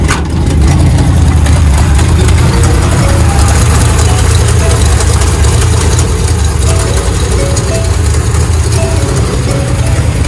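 A 454 engine in a classic vehicle runs loud and close for about ten seconds, a deep, sustained rumble as the pedal is pressed, steady throughout.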